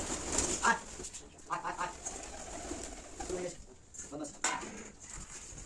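Pet pigeons in their loft, with soft, low cooing and fluttery bird sounds coming in uneven bursts. The sound is faint and somewhat distant, and a voice is heard now and then.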